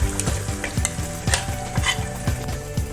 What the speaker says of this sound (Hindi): इस ऑयल में मैंने ये जो मसाला है इसको पकाना है।